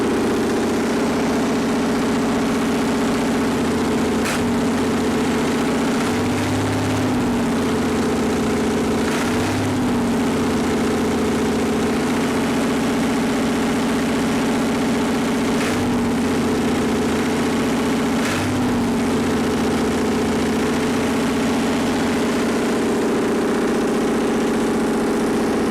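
A Perkins diesel generator engine runs steadily while its governor is adjusted, a continuous droning hum whose pitch dips and wavers every few seconds as the throttle is upset and recovers, with no voices.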